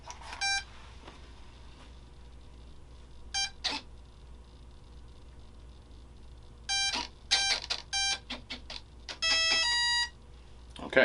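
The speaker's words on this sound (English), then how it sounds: "you heard the ESC beep the motor to initialize it" Several bursts of short electronic beep tones in quick series from a model airplane's ESC initializing its motor, some rising in pitch, separated by quiet gaps, with faint clicks and whirs between.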